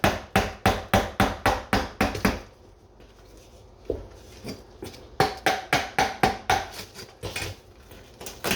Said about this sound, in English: So it's easier to do it with this big chisel or putty knife.